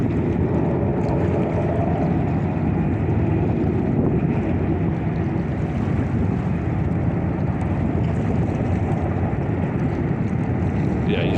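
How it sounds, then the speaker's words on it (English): A steady, heavy rumble of Black Hawk helicopter rotors and engine flying low, skimming the water, loud and continuous, mixed with wind and rushing water noise. "That helicopter is actually touching the water."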